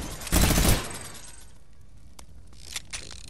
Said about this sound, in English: Look, listen to how fast they start shooting.